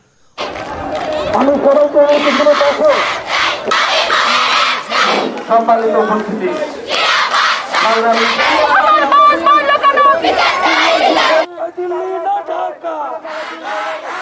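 Students and local residents block the Rangpur-Kurigram highway in Kaunia, Rangpur, demanding safe roads, shouting slogans together in loud, rhythmic bursts of crowd voices, with brief pauses between chants.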